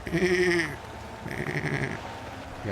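A voice imitates a sheep's bleat twice, a wavering nasal "baa" followed by a shorter second one after a brief pause.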